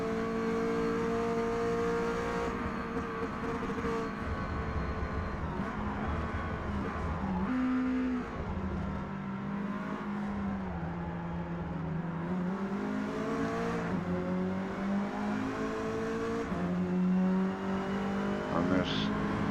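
Alpine A110 race car in Forza Motorsport, A class at Virginia Raceway, engine droning and rising steadily as it accelerates, with brief tire squeal, while someone commentates over it throughout.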